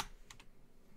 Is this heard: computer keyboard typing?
yes